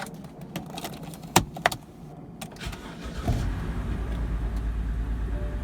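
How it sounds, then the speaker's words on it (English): A BMW X5 engine being started: a few clicks and key jingles, then the engine catches and settles into a steady, low, even idle that continues close by. "Now I'm gonna start the vehicle and let it run for 30 minutes"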